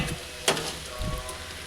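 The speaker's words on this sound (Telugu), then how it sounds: "అందుకే నేను బోటీని క్రిస్పీగా ఫ్రై చేస్తాను." Boti (goat tripe) frying crispy in hot oil makes a steady, close sizzle and crackle, with a sharp pop and some brief stirring scrapes.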